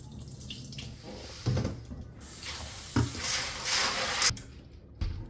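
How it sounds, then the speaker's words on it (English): Water runs and splashes over soybeans in a bowl, with clattering and swishing as they are stirred and rinsed, close up. "Rinse the soybeans with room temperature water for a couple of times."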